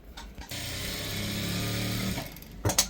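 A sewing machine runs steadily for just under two seconds, stitching a shirt collar. Soft handling noises come briefly before and after the stitching.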